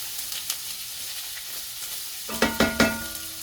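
String beans and broccoli sautéing in a pan for a vegetable adobo: a steady soft sizzle, then a few louder bursts of sizzling and stirring clatter near the end.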